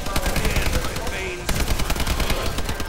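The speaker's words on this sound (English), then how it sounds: "I love this shotgun." A shotgun fires repeatedly during a Call of Duty Exo Zombies fight, a rapid stream of sharp blasts mixed with other gunfire and game noise, loud and continuous, with a voice speaking faintly underneath.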